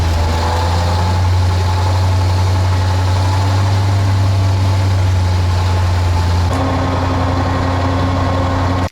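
An ATS-59G tracked tractor engine runs steadily while driving in reverse, a loud, continuous low drone with a deep rumbling hum and constant vibration that shifts slightly in pitch near the end.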